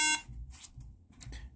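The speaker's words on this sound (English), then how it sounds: "Push the power button here. We see the light turns on, but it's beeping." Apple MacBook Air with a memory or motherboard failure giving a short electronic beep at power-on, a single tonal burst at the start followed by quiet fan and hiss.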